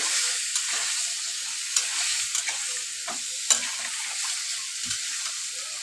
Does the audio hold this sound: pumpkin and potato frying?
yes